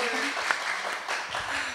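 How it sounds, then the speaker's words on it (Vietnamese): An audience applauds steadily at a Vietnamese singing competition semifinal after a contestant's performance, a continuous wash of clapping at moderate loudness with a host's voice speaking over it. "Xin cho thêm một tràng pháo tay nữa có được không ạ?"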